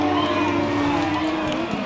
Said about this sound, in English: Now, the crowd's erupting